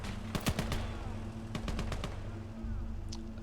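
Machine gun fire in the Gates of Hell: Ostfront WWII strategy game, quick bursts of sharp shots in short clusters over a steady low engine rumble from a T-34 tank.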